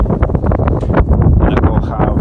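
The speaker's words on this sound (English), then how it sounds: "Okay, windy again, sorry." Heavy wind buffets the microphone outdoors beside a 1936 Chevy Coupe, a loud, rumbling, gusty roar with constant low thumping and no clear voices.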